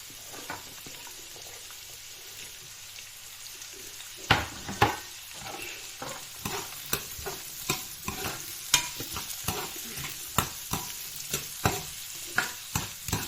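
Glass noodles being stir-fried in a pan over a quiet sizzle; after a few seconds a spatula begins scraping and clattering against the pan in a steady, rhythmic series of sharp strokes, close and clear.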